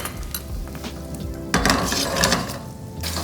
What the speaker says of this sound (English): a little bit of olive oil, and we're gonna pan fry the gnocchi